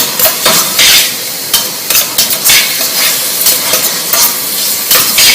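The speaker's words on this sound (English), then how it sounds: "Stir them up." Zucchini pasta being stirred in fresh tomato sauce in a pan, giving loud repeated scraping strokes over a steady wet sizzle, close and without voices.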